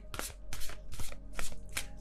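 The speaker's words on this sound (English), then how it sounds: "This deck is so hard to shuffle, but I love it so much." A stiff deck of tarot cards is shuffled by hand in quick, crisp riffling bursts, about five sharp rustles in two seconds, close and alone with no talking.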